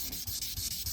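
Fine-grit sandpaper wet sanding stainless steel trim, a close, steady back-and-forth rubbing with a regular stroke rhythm, about five passes in a second, alone without talk.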